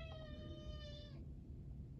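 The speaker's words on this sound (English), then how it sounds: "My cat is yelling at me." A cat meows loudly and insistently, one long drawn-out tonal call lasting about a second before cutting off, heard alone over a faint steady background hum.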